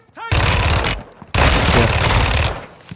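Sustained bursts of Phalanx gunfire in Call of Duty DMZ, loud and close, two long rapid-fire strings split by a brief pause.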